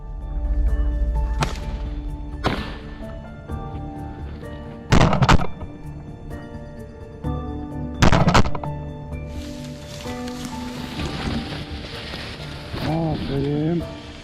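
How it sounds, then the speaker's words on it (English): Rifle shots in a rugged mountain forest during a wild boar confrontation, two sharp loud cracks several seconds apart, each with a short echoing tail, among thuds and background noise. "I raised my rifle and pulled the trigger. The gunshot echoed through the forest walls"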